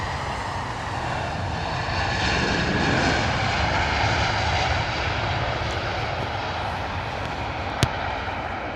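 Saudi airliner, flight 119, arriving on runway 27 left at London Heathrow, its engines roaring steadily and loudly overhead for the whole stretch with a broad rushing wash, no voices.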